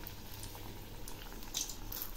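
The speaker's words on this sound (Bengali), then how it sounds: "বাকিগুলো এভাবে ভেজে নিচ্ছি।" Palm-fruit pitha frying in hot oil gives a faint, steady bubbling sizzle with light crackles, heard close and alone.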